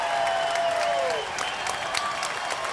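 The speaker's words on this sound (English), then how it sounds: "The crowd is on their feet." A lacrosse crowd at the final game of the MSL season claps and cheers in a steady wash of applause, with a whistle at the start and a commentator talking over the noise.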